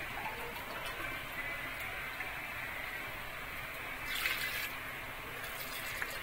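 Water and vinegar poured from a glass into a blender jar for an Egyptian koshary sauce, a steady faint trickling with a brief brighter splash near the end.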